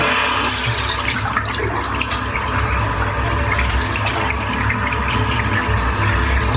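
Tap water runs steadily to wet a shaving brush, a continuous close splashing flow with no talk.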